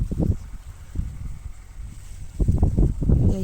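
Gusty winter wind buffets the microphone outdoors in a garden in low rumbling bursts, easing in the middle and then returning strongly, with no voices.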